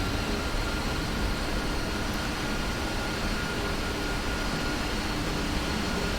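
Steady jet engine roar of a simulated PMDG 747 taxiing in the Prepar3D flight simulator, a continuous broadband hum with a faint tonal whine, constant and even throughout with no talking.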